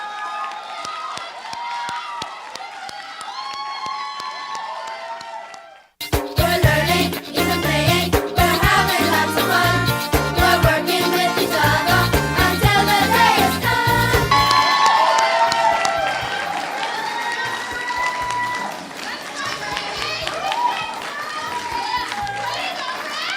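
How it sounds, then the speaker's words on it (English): A crowd at a high school cooking competition cheers and claps for the winner, loud and lively, with shouting voices and a burst of music over the noise. "Please give a rousing round of applause to Miss Michaela Dorset of the Preston H. Albury High School."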